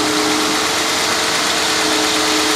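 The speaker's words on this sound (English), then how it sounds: "You can tell that the fan clutch is finally disengaged, a little bit less fan roar." A 1991 Mercedes-Benz 420 SEL V8 idles steadily up close with its fan clutch disengaged, giving an even, constant hum and whir with a faint fan roar and no talking.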